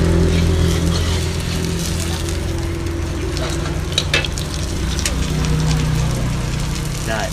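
Bánh xèo batter frying in a hot pan, a steady close sizzle and crackle running the full length with occasional stirring clatter.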